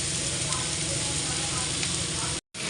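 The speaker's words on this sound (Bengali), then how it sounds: "এবার সজনে ফুলগুলো দিয়ে দেবো।" Drumstick flowers hitting hot oil in a pan with fried onion, giving a steady, close sizzle and frying hiss that runs evenly and cuts off briefly near the end.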